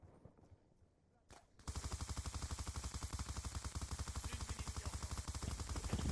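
Rapid automatic gunfire from a machine gun in a multiplayer video game, a steady loud rattling burst of closely spaced shots that starts abruptly after a quiet moment and keeps going to the end.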